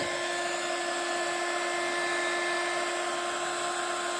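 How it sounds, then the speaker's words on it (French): A heat gun blows steadily while heating embossing powder on a card, a constant close whirring roar with a high tonal whine, unchanging for the whole stretch. "Et je viens chauffer ça avec mon heat gun."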